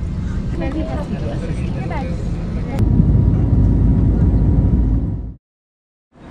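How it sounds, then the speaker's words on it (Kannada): A broad, steady roar fills an airplane cabin during flight, low engine drone with a faint murmur of voices, before the sound cuts off abruptly near the end. "ಅಟ್ ಪ್ರೆಸೆಂಟ್ ಇವಾಗ ಫ್ಲೈಟ್ ಒಳಗಡೆ ಇದ್ದೀನಿ."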